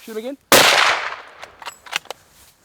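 A single loud rifle shot rings out during a buffalo hunt in South Africa, its sharp crack followed by a decaying echo, then faint clicks and handling noises; a brief voice is heard just before the blast.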